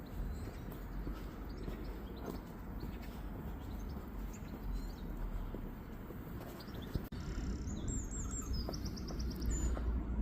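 Bird calls from a water pigeon by a canal on a walk near Huncoat, heard as scattered high chirps over steady outdoor background noise, with a brief bump near the middle.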